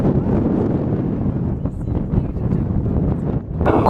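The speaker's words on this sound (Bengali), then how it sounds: "হাওয়ার শব্দ শুনতে পাচ্ছ তো?" Cold wind gusts across the Zugspitze summit in the Alps, a loud buffeting roar of air against the microphone with irregular surges and a stronger blast at the end.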